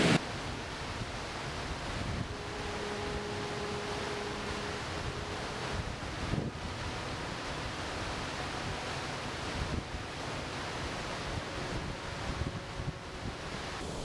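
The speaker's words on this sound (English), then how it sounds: "It is getting quite windy and it's getting quite rainy" Gusty wind buffets the microphone outdoors in Glen Orchy, Scotland, with a steady broadband roar, rain and weather noise filling the background and no one speaking.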